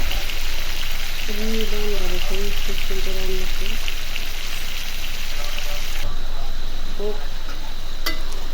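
Potatoes frying in oil in a pan, a steady loud sizzle running throughout while someone talks over it.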